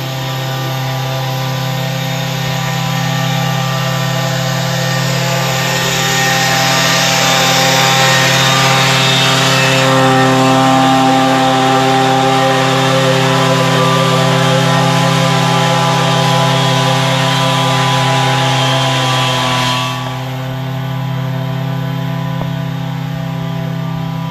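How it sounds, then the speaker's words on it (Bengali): A motorised trimmer cuts tea bush leaves in a tea garden, a loud steady engine drone with a strong low hum and buzzing overtones running throughout, the cutting noise roughening in the middle stretch. "মেশিন দিয়ে চা পাতা কাটা শুরু হয়েছে"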